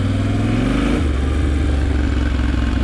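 A Yamaha Tenere 700 adventure motorcycle's engine revs and accelerates, a loud, close, continuous rumbling drone with a gear change about a second in.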